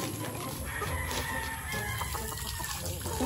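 Freshly watered chickens fill the air with busy clucking and calls, a dense, steady flock chorus close by, with a voice faintly in the background.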